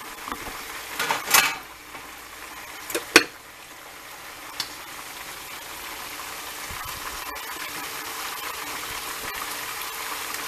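Buffalo chicken wings fry on a stovetop with a steady, quiet crackle and hiss, broken early by a few louder clinks of a utensil against the pan.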